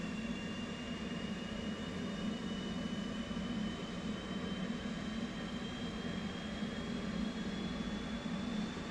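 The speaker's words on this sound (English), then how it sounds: "At about 40 RPMs, you'll hear it really spool up." A military jet engine on an aircraft carrier deck starts and spools up, a steady, loud broadband roar with a rising whine holding throughout.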